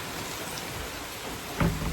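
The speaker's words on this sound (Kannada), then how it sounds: "ಇಲ್ಲಿ ಮೋಟ್ರ್ ಆನ್ ಮಾಡಿ ಹೋಗಿದ್ದೆ, ಇದು ಓವರ್ಫ್ಲೋ ಆಗಿಬಿಡ್ತು" Water overflowing from a tank filled by a motor pump splashes down in a soft, steady rain-like patter, faint and continuous, with a slightly louder splash near the end.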